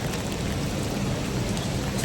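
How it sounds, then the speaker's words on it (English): Steady, heavy rain pouring down as a continuous broadband hiss, loud and unbroken with no voices. "It's awful rain."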